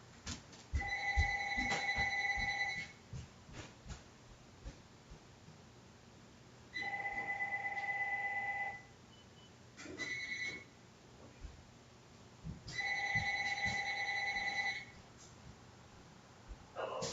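A telephone rings in three long electronic trills spaced several seconds apart, fairly loud against a faint background with some short clicks between rings.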